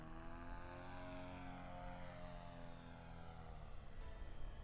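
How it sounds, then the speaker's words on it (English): A paramotor engine during a slalom flight at a world paramotor championship, a distant propeller drone whose pitch falls and rises as the throttle is eased and squeezed, steady and fairly faint, with no voices. "you can hear him controlling the engine"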